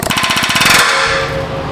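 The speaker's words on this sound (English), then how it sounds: "We're gonna give these just a little tickle with the air hammer." Air hammer on a rear subframe of a Nissan Altima, a loud rapid rattling burst of about ten pneumatic blows, followed by hissing air and a ringing metallic tone.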